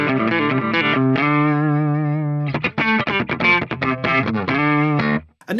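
An electric guitar runs through the limiter effect of a Mooer GE150 Pro multi-effects unit, playing distorted riffs and chords with a long sustained chord in the middle, loud, even and compressed, with no voices.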